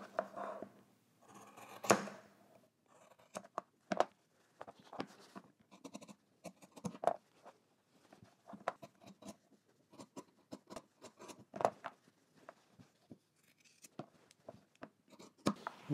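Scissors snip through fabric while trimming sewn corners, with a run of short, close, crisp cuts in an irregular rhythm and brief pauses between bursts.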